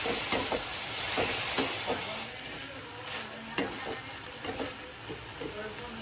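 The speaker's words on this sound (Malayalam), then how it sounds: "പച്ചപ്പ് മാറുന്നവരെ ഒന്ന് ഫ്രൈ ചെയ്തെടുക്കാം. ഒന്നുകൂടി വഴറ്റാം." Vegetables sauté in a hot pan with a steady sizzling hiss, broken by occasional scraping taps of a spatula as they are stirred; the cooking sounds are close and moderately quiet.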